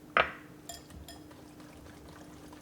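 A short splash of water poured into homemade salad dressing, a single brief burst near the start followed by faint clinks and quiet kitchen background.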